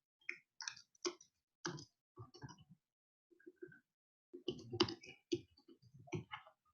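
Typing on a computer keyboard, scattered clusters of sharp key clicks in uneven bursts with brief pauses between, fairly faint and close.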